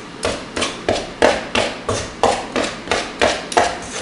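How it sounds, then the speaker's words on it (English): Two knives cutting shortening into pie crust dough: about ten evenly spaced, crisp chopping knocks at a steady rhythm, close and fairly loud, with no talking. "Just take your, rub your two knives together,"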